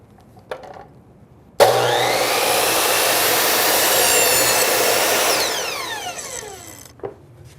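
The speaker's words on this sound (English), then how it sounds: "let's cut the trim." A miter saw spins up abruptly, bites through crown molding trim in a loud sustained cut lasting several seconds, then winds down in a falling whine before a final click.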